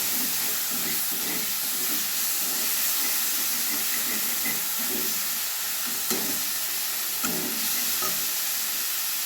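Onion paste fries in oil in a pan, with spices added, producing a loud, continuous hiss and sizzle up close, with occasional soft stirring knocks and no voices.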